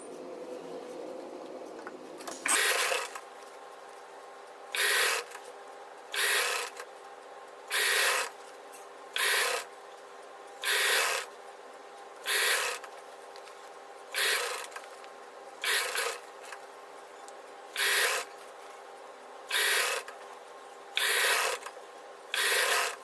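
Sewing machine stitching a blouse collar in short bursts: about a dozen separate runs of fast mechanical whirring and clatter, each lasting a second or so, with quiet pauses between them and no speech.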